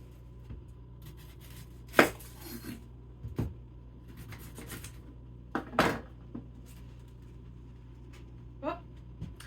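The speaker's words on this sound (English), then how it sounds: "cut up some onion." A knife cuts onion on a cutting board at home, giving a handful of sparse, separate chops and thuds close by over a quiet background, with soft handling sounds between them.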